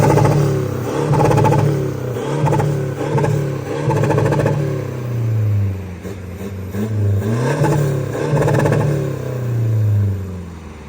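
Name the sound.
Toyota Hilux GR engine revving with hard rev cut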